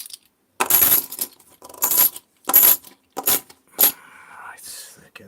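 Silver coins clink as they are stacked, five distinct bright metallic taps in an irregular rhythm, close and loud, followed by a softer rustle.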